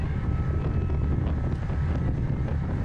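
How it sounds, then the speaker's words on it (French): Steady, gusty wind at an outdoor bike race buffets the microphone with a constant low rumble, continuous throughout and fairly loud, with no voices. "Là le vent il s'est levé."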